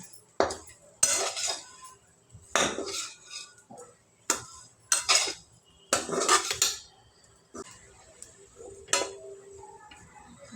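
Bitter gourd stir-fry is stirred in a pan with a metal spatula, producing sharp separate clinks and scrapes in irregular bursts with quiet gaps between, close and fairly loud.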